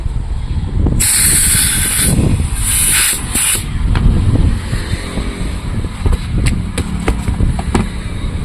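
Air hisses loudly into an auto-rickshaw tyre tube in short bursts, close by, over a rumbling workshop background with clatters and mechanical noise.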